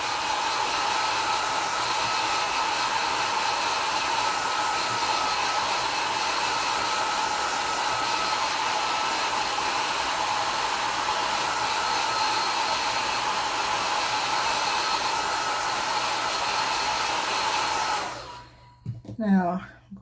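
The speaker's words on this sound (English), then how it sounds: "put the dryer over that for a moment" A hair dryer drying watercolor paint on handmade deckled paper blows in a loud, steady whoosh for nearly the whole clip, then switches off, leaving a brief voice at the end.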